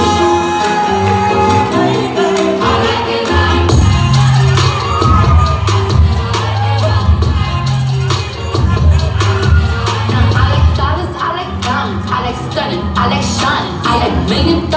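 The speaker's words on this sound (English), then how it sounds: "Please give a big round of applause for our jazz dance." A high school audience claps, whoops and shouts for a jazz dance class performance, loud and sustained over pounding music, with cheers flaring up throughout.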